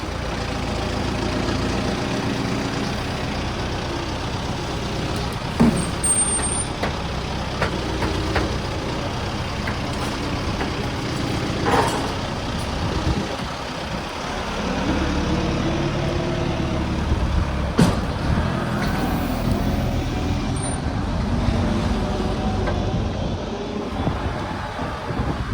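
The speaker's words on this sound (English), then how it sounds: "let the fuel wagon past" A fuel tanker lorry passes along a narrow farm lane, producing a steady, loud low engine rumble and drone that runs continuously throughout, with no talk over it.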